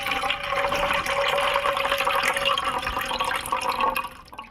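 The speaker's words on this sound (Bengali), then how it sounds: "ডালটা আমি 4 বার জল দিয়ে ভালো করে ধুয়ে নিয়েছি" Lentils (dal) being washed in water by hand, a continuous close sloshing and splashing of water in a vessel, steady throughout and tapering off at the end.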